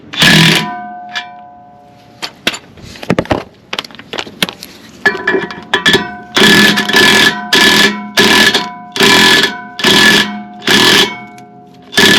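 An impact gun pulls a new wheel stud through the hub of a worn-out Acura TSX wagon. After some scattered clanks, a series of loud, buzzing rattles comes in short repeated bursts, each about half a second long.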